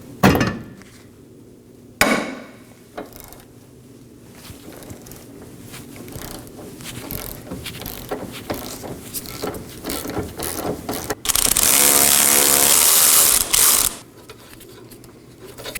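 A ratchet wrench clicks through rapid strokes while loosening a rear suspension bolt on a 2018-2024 Chevrolet Equinox 1.5L, with a loud burst of continuous ratcheting and a few sharp metallic knocks near the mic.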